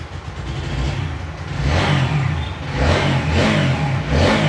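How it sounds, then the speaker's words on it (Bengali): A second-hand motorcycle engine revs in repeated swells, rising and falling about once a second over a steady low idle rumble, loud and close with no talk. "ইঞ্জিনের সাউন্ড একেবারে র, একদমই র কন্ডিশনে আছে কিন্তু।"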